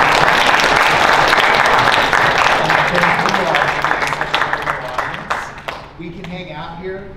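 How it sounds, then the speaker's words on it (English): A debate audience gives the debaters a round of applause, a dense, loud burst of clapping that gradually thins and fades, leaving scattered claps and a voice speaking over the tail end. "I believe we owe our debaters a round of applause."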